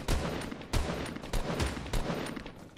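Gunfire in the battle royale game PUBG, a string of about five sharp, evenly spaced distant shots cracking out one after another at a moderate volume.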